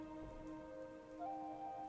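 Rain drumming on the roof of a tent in the morning, a steady soft patter with water running down the fabric, faint and continuous with no talking.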